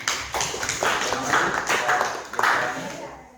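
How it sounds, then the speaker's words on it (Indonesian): Short burst of hand clapping from a small classroom audience, several people applauding together in quick uneven rhythm, close and moderately loud for about three seconds. "Tepuk tangan dulu."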